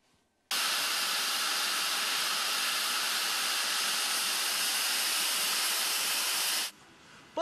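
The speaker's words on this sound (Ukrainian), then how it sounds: "Пара, дим та гучний сигнал." A late-1940s steam locomotive standing at a railway station platform vents a loud, steady hiss of steam for about six seconds, then it cuts off abruptly, with no talking.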